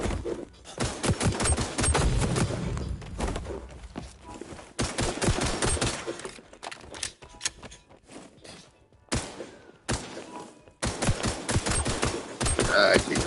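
Bursts of automatic gunfire from a crouched player in a console first-person shooter, loud close shots in several rapid volleys separated by short pauses, with footsteps and mechanical clicks between them.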